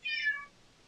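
A cat lets out a single short, close meow that fades within half a second, followed by quiet.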